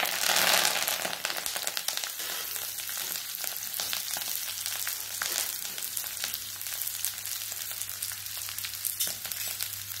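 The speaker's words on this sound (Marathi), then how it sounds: "छान परतून घेणार आहे मेथी आणि आळू" Chopped taro leaves and fenugreek sizzle and crackle in hot oil in a pan while being stirred, a steady close frying hiss with occasional scraping, no talking.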